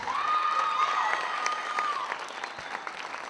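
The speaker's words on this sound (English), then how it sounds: "let's give an extra round of applause for these fine, outstanding youth" Applause from a crowd of parents and family in a high school gym after a basketball game in Clarkrange, steady dense clapping with whoops and cheers, tapering slightly near the end.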